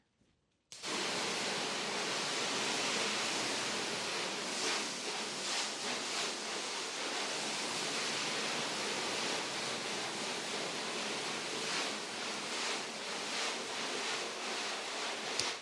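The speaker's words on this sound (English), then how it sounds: "we can shoot this from a long distance because the stream hits pretty hard regardless" A pre-rinse sprayer fitted to a garden hose blasts a hard stream of water onto a car, a loud, steady hiss and splatter that starts abruptly and runs continuously without talk.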